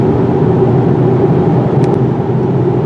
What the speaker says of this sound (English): we can open up this vehicle and drive the German sedan the way it was meant to be, wide open